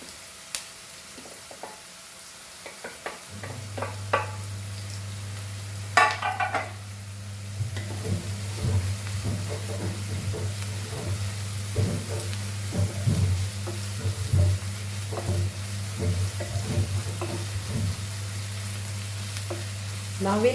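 Ginger garlic paste and chilies frying for a Goan prawn curry, with a steady sizzle, a low continuous hum and repeated stirring scrapes in the pan. No voice is heard.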